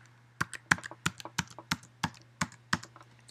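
Computer keys clack in a quick irregular run of about a dozen crisp presses while a Wi-Fi password is typed, close and alone over a faint low hum.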